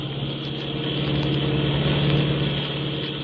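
A car engine hums steadily while driving through a tunnel, staged as a radio drama effect; a continuous mid-pitched drone swells slightly in the middle, with no voices.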